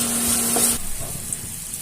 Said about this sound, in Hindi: आप प्याज को तब तक भूनें जब तक ये हल्के ब्राउन ना हो जाएं